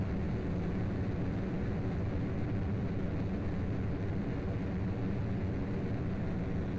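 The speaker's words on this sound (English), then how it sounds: "So full confession, this is not a jet. It has a rocket engine." A rocket-engined plane with no air intake, flying in Kerbal Space Program, produces a constant broadband roar, like rushing noise, steady and unbroken throughout, with no voices.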